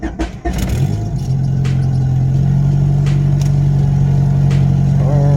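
A Honda Civic with an F23A engine cranks briefly, catches, and settles into a steady, loud idle heard up close, with faint clicks over the running engine.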